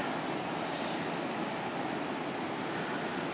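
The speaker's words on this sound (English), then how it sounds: "The mighty Vermilion River." The Vermilion River near an old railway bridge and ruins in Wakeman, Ohio, rushes in a steady, broad, unbroken wash of flowing water, with no voices over it.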